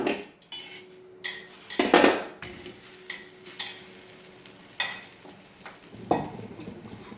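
Chonge, a traditional Karnataka flatbread snack, flipped and cooked on a pan: a string of close metallic scrapes and clatters from a utensil against the pan, with a soft sizzle in between, and no talking.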